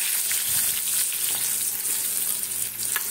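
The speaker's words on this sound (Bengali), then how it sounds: "আর এই আলুগুলোকে কড়া করে যেমন ভাজে ওইভাবে ভেজে দেবো" Potatoes coated in turmeric and a little salt fry in hot oil, giving a loud, continuous, even sizzle with faint stirring clinks.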